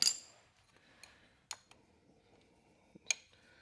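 Metal wrenches clink and tap while being tried on the starter bolt of a 1949 Willys truck. A few sharp, scattered clicks stand out in an otherwise quiet space.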